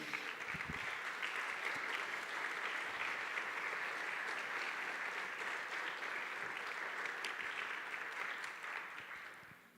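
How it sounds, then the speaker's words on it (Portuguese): Congregation applause at a church worship service, a dense, steady wash of many hands clapping that holds for about ten seconds and tapers off at the end, with no talking over it. "Você pode aplaudir a Jesus?"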